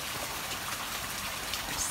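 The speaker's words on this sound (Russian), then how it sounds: "У нас дожди продолжаются. И с каждым днем все сильнее и сильнее." Dense, steady downpour with a constant hiss of rain pounding surfaces, loud and unbroken throughout.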